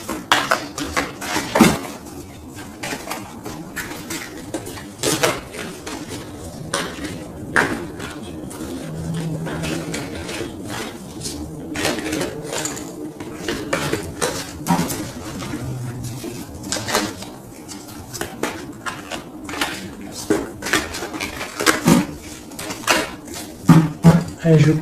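Tarot cards being cut and shuffled by hand, giving a run of soft, irregular card slaps and riffles at close range, with someone speaking French intermittently over them.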